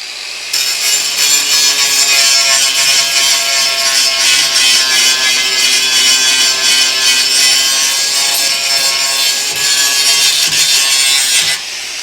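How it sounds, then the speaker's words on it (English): An angle grinder cuts metal on a Charger restoration, a loud steady high-pitched whine held for about eleven seconds, close and uninterrupted. "Just gotta grab that with a grinder."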